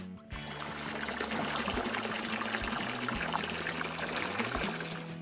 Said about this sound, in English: Now let's give you another rinse.